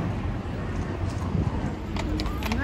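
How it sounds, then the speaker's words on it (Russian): Horse hooves clip-clop on a street in central Vienna, a steady run of hoofbeats under city noise while a voice talks over them. "Лошадки, да."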